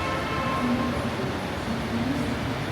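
A Kochi Metro train runs at MG Road metro station, a steady loud rumble of rail transport with faint tonal whines, continuous and close throughout.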